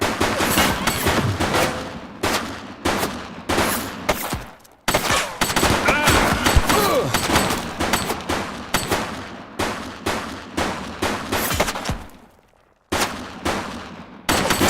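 A shooting suspect in The Precinct fires a long run of loud, rapid gunshots in dense bursts, broken by a brief pause before the firing resumes.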